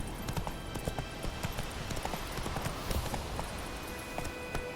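Roach, the horse in The Witcher 3 game, trots along with a steady, even clip-clop of hooves at moderate volume, continuing without pause.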